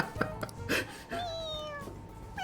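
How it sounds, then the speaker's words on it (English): A stuffed toy cat in Persona 5 Royal meows when pressed, giving a drawn-out, high, wavering mew after a few short clicks and soft taps, fairly close and heard alone. "It meows when you press on its head."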